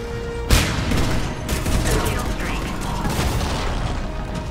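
Automatic turret gunfire in Mass Effect 3's Citadel DLC combat: a sudden loud burst that settles into a dense, continuous rattle of shots and impacts lasting several seconds.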